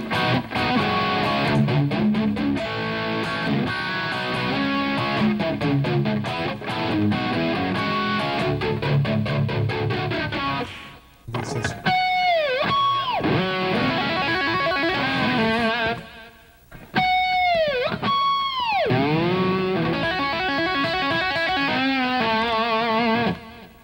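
Distorted electric guitar runs through a flanger pedal, playing a busy riff with rapid picked notes, brief gaps and swooping, jet-like sweeps, loud and continuous with no voices.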